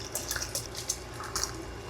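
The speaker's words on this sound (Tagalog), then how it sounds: "Buhos ko na yung sarsyado na ginawa ko para sa bangus." Sauce being poured over fried milkfish, a soft wet trickle with small splashy drips against a low background hum.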